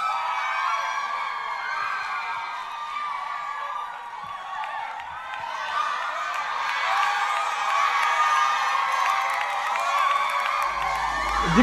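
A large crowd cheers and shouts continuously, a dense roar of many voices with whoops and whistles, swelling louder toward the end.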